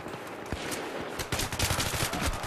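AK rifle fire in the video game Battlefield 3, with rapid bursts of loud, sharp shots crackling over the game's background din and growing denser toward the end.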